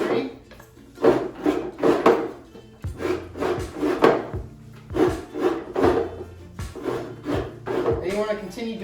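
Fresh coconut meat being grated with repeated downward strokes into a bowl for chicken kelaguen, a steady run of close, coarse rasping scrapes about one per second with no talk.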